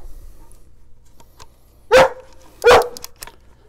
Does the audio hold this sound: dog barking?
yes